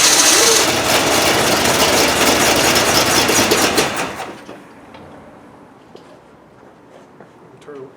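A Ford F350 truck engine runs loud and rough just after its first start, then drops sharply to a quieter, uneven idle about halfway through.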